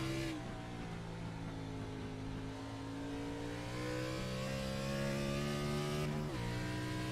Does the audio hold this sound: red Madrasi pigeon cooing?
no